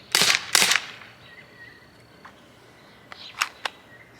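Sig Sauer P365 CO2 BB air pistol fired outdoors: two quick sharp pops close together, then a quiet pause and a few fainter snaps and clicks, with no speech.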